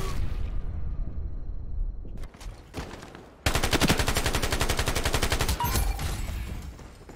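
Video game gunfire in Ironsight: a few scattered shots and handling noises, then a loud, rapid automatic burst lasting about two seconds with evenly spaced rounds, trailing into quieter shots and game ambience.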